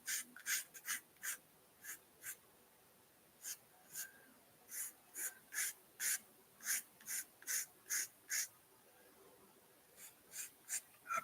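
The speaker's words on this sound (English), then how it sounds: "do a little sanding." Sanding a plastic part of a Gundam Rick Dias model kit by hand: a close series of short, dry rasping strokes in a steady rhythm with brief pauses, faint and alone without talk.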